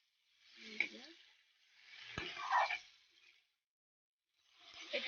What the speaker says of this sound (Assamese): ধুনীয়াকৈ ভাজিছোঁ।